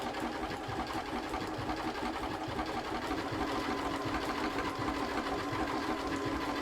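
A sewing machine stitches a small blanket stitch around the edge of an animal cushion, its steady, fast mechanical whirring running close and unbroken throughout with no talk.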